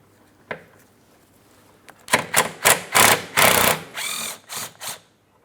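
A ratchet wrench works loose a 10mm bolt holding the rear brake flex hose bracket on a 2004-2008 Pontiac Grand Prix, giving a single click followed by a quick series of loud, close ratcheting bursts.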